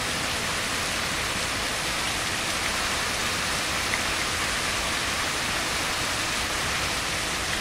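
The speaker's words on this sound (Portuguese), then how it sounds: "infelizmente o som da chuva tá atrapalhando" Steady rain in the truck driving game On The Road, a dense, even hiss that holds at the same loudness throughout with no voices.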